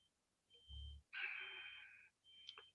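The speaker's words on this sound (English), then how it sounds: "Apologies if you can hear beeping, there's workmen outside my house." Electronic beeping from workmen outside a house, heard faintly at a distance as a few sustained tonal beeps with pauses, one low thump between them.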